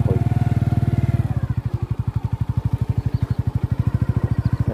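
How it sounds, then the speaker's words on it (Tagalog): A motorcycle engine putters steadily close by, its rapid even pulsing firing throughout as the bike rides past on a rural path near a hanging bridge. "nakasakay ng motor yung Shokoy"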